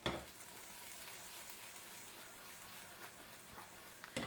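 Garlic slices with salt fry in oil in a pan, giving a faint, steady sizzle with light crackles and a few stirring knocks.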